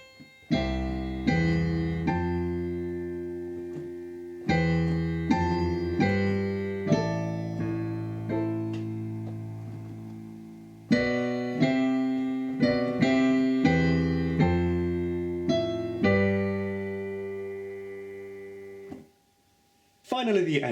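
Piano keyboard playing a song, clear sustained chords with a melody over them in slow, separated phrases, loud and close, with a short pause near the end before one last chord.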